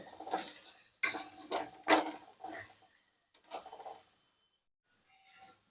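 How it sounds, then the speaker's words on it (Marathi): Finely grated dry coconut is stirred and roasted in a pan for a masala paste, with a few sharp scraping clinks of a spoon against the metal, the taps in bursts and then quieter, alone without talk. "अर्धी वाटी बारीक केलेलं सुक खोबरं तेही परतून घेऊ"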